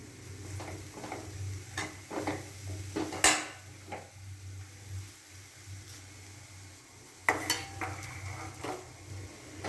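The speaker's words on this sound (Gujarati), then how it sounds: "તેમાં તાપે હું આને ઘીમાં શેકું છું" A date and mawa mixture roasts slowly in ghee over a low flame, with a soft sizzle under repeated spoon scrapes and clinks against the pan, sometimes sharper and louder.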